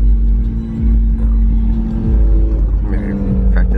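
An Audi race car on a half-mile track at the Shift S3ctor event in Abilene in 2022 produces a loud, close, steady engine drone with a rising rev near the end, while voices murmur nearby.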